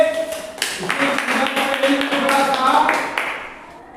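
Students clap in a Hindi-medium seventh-grade science classroom, a scattered run of sharp hand claps heard under a teacher's speaking voice.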